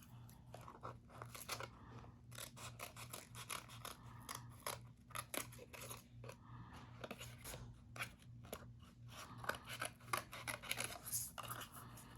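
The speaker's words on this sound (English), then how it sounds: "Cut away at the excess." Scissors snip through excess material used in making a lighthouse model, a steady run of crisp cuts close by over a low constant hum, with no voices.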